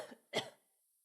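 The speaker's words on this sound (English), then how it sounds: "could you cough for me?" A single short human cough, sharp and close, preceded by a faint breathy throat sound, then quiet, during a nurse's breathing assessment.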